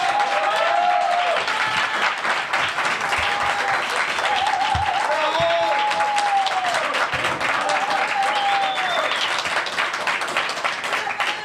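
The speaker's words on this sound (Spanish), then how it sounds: "voy a pedir un fuerte aplauso acá" Studio audience applause greets a guest on a live talk show, a dense, loud and continuous burst of clapping that runs the full length, with faint voices and tonal sounds drifting underneath.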